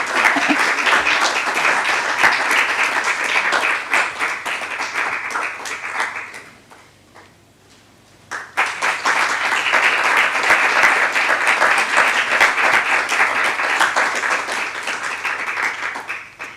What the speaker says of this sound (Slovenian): En aplavz, tako je, prosim,